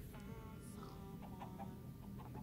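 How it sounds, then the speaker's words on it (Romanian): Chickens cluck in a Minecraft survival game, a steady run of short clucking calls over a constant low background hum, with no voices. "Găinușă!"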